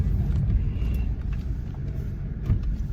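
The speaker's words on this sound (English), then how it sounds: "I'll show you that I can do a burnout in second gear" A 2000 Ford Mustang attempting a burnout in second gear, a loud sustained low engine rumble close by with steady roar and slight surges.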